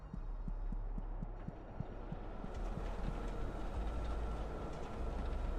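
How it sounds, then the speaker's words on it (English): Loud trains in the video game Psycho Pomp produce a dense, continuous rumbling roar with steady rhythmic low thumps, like wheels clacking over rail joints, filling the whole stretch. "those trains are loud"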